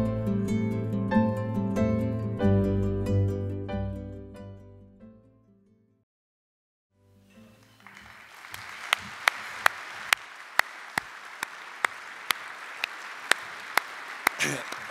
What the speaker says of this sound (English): Let's give another round of applause to Andy Pollard and Keith King for producing